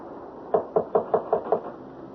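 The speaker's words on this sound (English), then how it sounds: "Now, shall I knock?" Six evenly spaced knocks on a wooden door in a radio mystery drama, firm and fairly close, with a steady rhythm and no talking over them.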